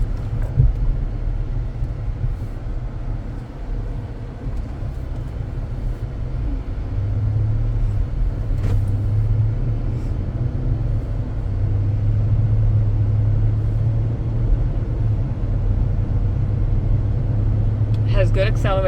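A 2015 Ford Taurus driving gives a steady low engine and road rumble that grows slightly louder partway through, with a brief clatter near the end.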